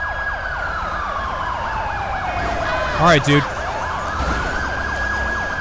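A wailing emergency siren from an AI police car in GTA 5 with the LSPDFR mod sweeps up and down continuously and loudly, while a voice speaks briefly over it.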